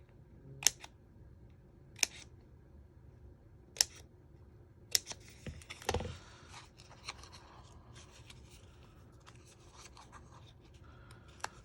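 Paper being cut with scissors to trim away a scored strip during card making: several sharp, isolated snips spaced about a second apart, then a longer rustle and a flurry of faint cutting and handling sounds, close and quiet, with no talking.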